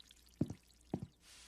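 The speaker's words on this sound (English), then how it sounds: "I water the plants every morning." Water poured while watering houseplants at home, two short splashy drip bursts close by, then a soft hiss of running water at the end.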